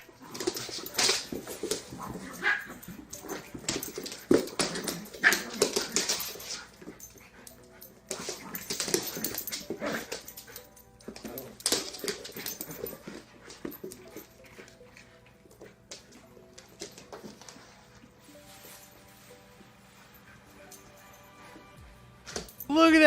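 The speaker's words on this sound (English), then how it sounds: "Here's a puppy playing with an older, what are these? Poodles? These are poodles." A poodle puppy plays with older poodles, giving small yips, whimpers and panting in scattered bursts, fairly close, with people talking over parts of it.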